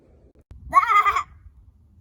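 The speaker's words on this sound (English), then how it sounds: "One fine morning, one of Moses' sheep strayed a bit from the path" A single sheep bleat, close and clear, lasting about half a second against a quiet background.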